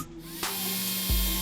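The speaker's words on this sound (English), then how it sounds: "And then drill a bigger hole out after that." A power drill bores a hole in a Holley throttle body bracket for a Chevy LSA setup, giving a steady high-pitched whine close by. The drill speeds up with a sharp rise in pitch partway through.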